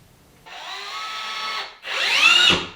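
A power drill drives screws into a closet storage build, two short whining bursts, the second higher and rising as the screw seats, close and loud.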